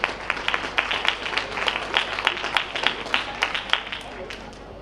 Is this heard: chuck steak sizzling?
no